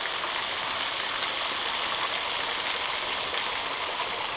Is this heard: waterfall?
yes